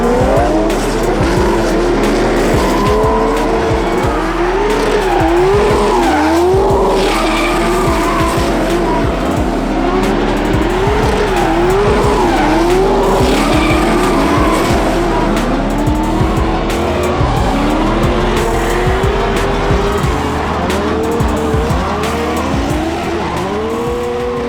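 Drift cars sliding at a Supadrift series drift event in South Africa, with loud, sustained tire squeals and wavering engine revs that continue without a break, the screeching rising and falling as the cars swing through turns.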